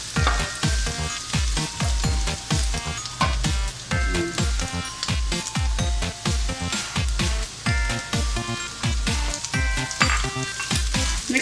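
Onion and garlic frying in oil sizzle steadily throughout, with regular rhythmic pulses running through the hiss and no talking heard.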